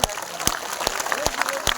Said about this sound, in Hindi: एक बार दोनों हाथ ऊपर उठाकर 1 मिनट तक तालियां बजाकर इस आयोजन का अभिनंदन करें।